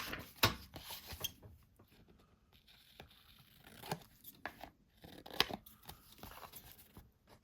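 Scissors cutting card paper, a few distinct snips and crisp crunches spaced out over quiet pauses, close and fairly soft.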